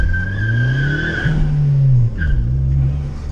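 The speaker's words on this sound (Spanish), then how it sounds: "Vamos a intentar hacer otra salidita así de chilladera de llantas para que veas" A Ford Focus ST Mk3 launches hard in sport mode, its tires letting out a loud, sustained squeal over the rising engine note, with a brief break in the middle and a second shorter squeal near the end.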